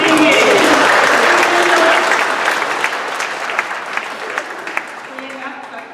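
Audience applause after a singing performance at a cultural sharing night with native dance, a dense, loud round of clapping that slowly thins and fades over several seconds.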